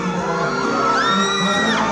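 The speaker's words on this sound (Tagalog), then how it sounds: "Dumadagundong ang hiyawan kapag nakakadaupang palad ng paboritong GMA stars na sina John Rex," Fans at a fiesta meeting GMA stars whoop and scream in a loud, dense crowd roar, with rising shrill yells cutting through the steady din of cheering.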